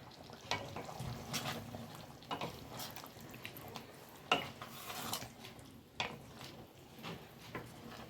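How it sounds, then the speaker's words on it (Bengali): Chilli chicken bubbling in a pan over a high gas flame, a soft steady sizzle and burble with occasional clinks and scrapes, close and fairly quiet. "দেখুন এটা ভালো ফুটছে, এবারে আমি গ্যাসটাকে জোর করে দিচ্ছি যাতে এটা খুব ভালো করে ফুটে যায়।"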